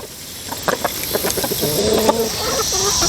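Several chickens and a rooster cluck and murmur nearby in scattered short calls, one drawn-out call standing out midway, against a constant outdoor hum.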